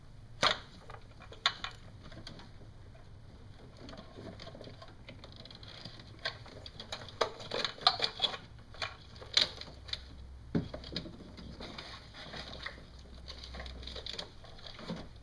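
Electrical connectors are pushed at the tab and pulled off the fuel injectors of a 1999–2008 Dodge/Jeep 4.7 or 3.7 V8, making faint scattered plastic clicks and small rattles with no talking.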